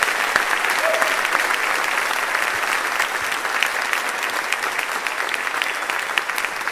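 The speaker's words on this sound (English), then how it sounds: "Please, round of applause for the team that organized all that." Steady, dense audience applause fills a large convention hall for the team that organized a national convention, continuing at an even level without a break from start to finish.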